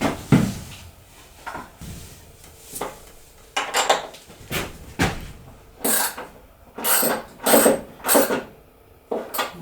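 Metal clanks and ratcheting clicks come in short, irregular bursts as a nut is tightened with a wrench on a drill press cart in a workshop, close and fairly loud with no talking.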